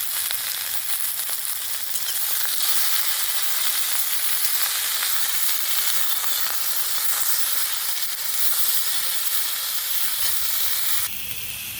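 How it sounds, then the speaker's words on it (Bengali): Pointed gourd, drumstick stems and potato with turmeric and salt fry in oil in a kadai, giving a loud, continuous sizzle and hiss that runs steadily, with a brief shift near the end. "কড়াই আমি তেল দিয়েছি, পটল ডাঁটা আমি ভেজে নিব"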